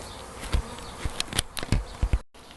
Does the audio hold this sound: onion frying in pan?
no